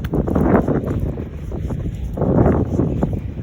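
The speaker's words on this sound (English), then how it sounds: "It's kind of, it's warm and windy that kind of day." Gusty wind buffets the microphone on a warm, windy day outdoors, a loud rumbling roar that swells in two strong waves.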